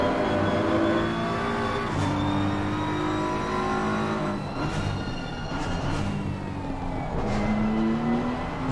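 A BMW GT3 race car in Assetto Corsa Competizione short-shifts on track, engine notes climbing and dropping through several quick gear changes, loud and steady with a faint second car in the background.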